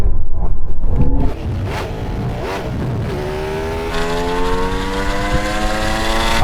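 An Audi RS or Ducati in a drag race roars hard, then the engine note drops and rises again through quick rev changes as it shifts down, close and loud, with no talking.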